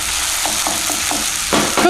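Food sizzling in a pan over turned-down heat for an anti-inflammatory vegan recipe, a continuous close crackling hiss with a few soft taps and a louder burst near the end, no talking.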